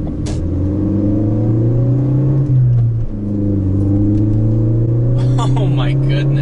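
A Ford Focus ST engine hums steadily while driving, its pitch dipping briefly at a gear change before rising again, with someone talking over it.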